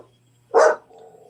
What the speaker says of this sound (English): That was a growl.